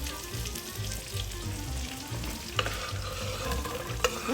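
Onions frying in a little oil in a pot, giving a continuous close sizzle with occasional stirring knocks and scrapes, alone without talk.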